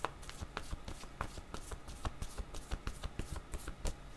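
Tarot cards are shuffled by hand at close range, a rapid run of crisp riffling slaps and flicks in an uneven rhythm, fairly loud with no talk.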